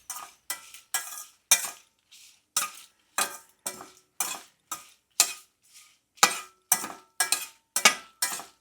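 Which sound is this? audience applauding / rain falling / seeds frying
seeds frying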